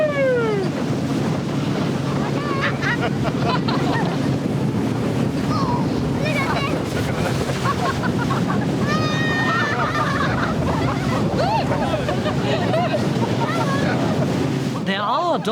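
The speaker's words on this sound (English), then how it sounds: "And to get out to sea, they have to take a high-speed boat." A high-speed boat heading out to sea on a dolphin-watching tour, its engine drone mixed with heavy wind buffeting and rushing water, loud and continuous, with faint voices and occasional children's squeals underneath.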